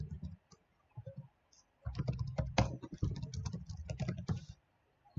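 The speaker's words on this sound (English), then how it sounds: "let's start typing" Rapid bursts of computer keyboard typing, close and clear, with short pauses at the start before a steady run of clicking keystrokes; no talking.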